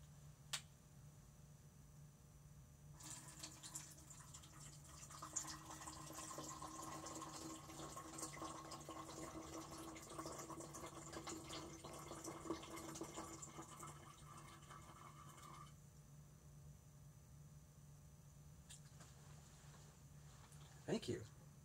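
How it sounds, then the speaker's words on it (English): Water drips and trickles steadily in a Fluxus drip music performance. It is a faint, continuous patter over low room hum and lasts around twelve seconds before tapering off. "This is called drip music."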